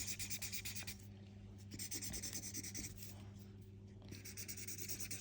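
A brown pen scratches quietly across paper while a drawing is being coloured, in short rubbing bursts separated by pauses.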